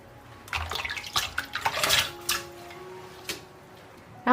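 Kumquats are washed in water, with close splashes, drips and small knocks of fruit arriving in uneven bursts, then thinning to scattered drops.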